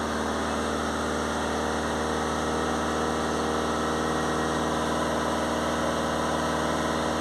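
A Peugeot Boxer 2.0 HDi diesel engine with a blocked particle filter runs steady and close, a dense continuous hum with fine vibration held at raised revs throughout and no clear climb from idle.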